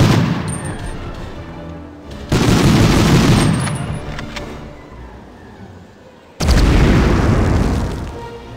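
Two loud, close booms from Panzerschreck rockets in the 1999 PlayStation game Medal of Honor, each striking abruptly and then fading into a long rumbling tail, with no voices.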